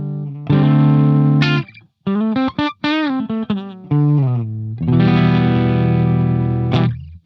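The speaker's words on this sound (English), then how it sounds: "I'm going to go right now to my humbucker sounds." Electric guitar on its bridge humbucker, run through the Polychrome DSP McRocklin Suite plugin, plays loud, distorted sustained chords, then a run of bent, wavering single notes, then a long ringing chord that cuts off.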